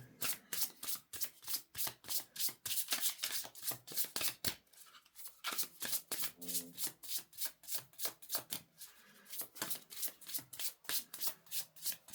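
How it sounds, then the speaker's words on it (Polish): Tarot cards are shuffled by hand in a steady, rapid riffling rhythm of crisp card slaps, close and clear, with a brief pause midway before the shuffling resumes. "I teraz i teraz tasuję kartę dla wagi."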